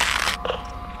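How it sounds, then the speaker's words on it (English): In the horror video game Among the Sleep, a short, harsh crunch plays, like something chewing on bones: a dense, gritty burst that breaks off, then a fainter crackling tail, all within about a second. "Why did it sound like something munching on my bones?"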